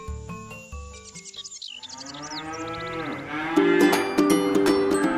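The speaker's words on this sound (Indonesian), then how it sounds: "Woi, sapi ini gede-gede banget." Cows in a cowshed give long, deep moos, several calls overlapping and rising in loudness toward the end, set against a faint backdrop of chirping insects and birds with no talk.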